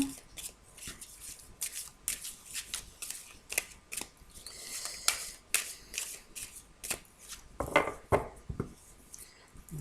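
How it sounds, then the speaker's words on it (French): Cards are laid down one after another on a table, giving crisp, light slaps and rustles in an irregular rhythm, close and fairly quiet. "Alors je repose quelques cartes."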